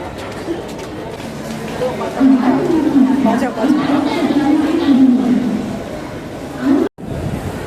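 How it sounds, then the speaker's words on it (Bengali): Steady murmur of a busy crowd inside Mumbai's Chhatrapati Shivaji railway station, with many overlapping voices and close chatter swelling in the middle, then a brief cut near the end. "ভাই ভালোই ভিড় আছে।"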